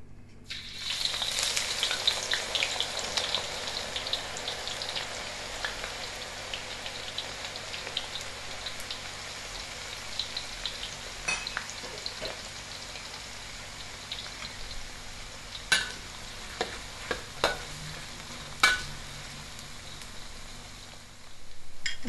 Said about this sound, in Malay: Kita panaskan minyak dulu. Kita tumis bawang dulu ya.